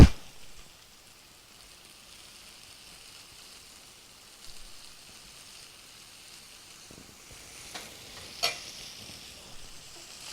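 Potatoes fry in a pan with a faint, continuous crackle, and a few stirring clinks and scrapes stand out toward the end.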